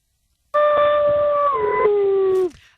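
A radio show caller imitates a dog howl with his voice, one long loud sustained howl that starts abruptly, drops in pitch partway and trails off.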